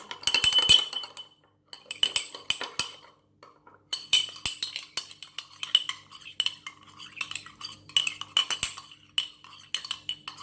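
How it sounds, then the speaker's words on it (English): A spoon stirs a salad dressing with a little mustard in a bowl, giving repeated scraping clinks against the bowl in bursts with brief pauses, close and fairly loud, with no talking. "Stir it very well."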